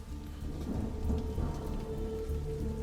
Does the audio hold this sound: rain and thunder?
yes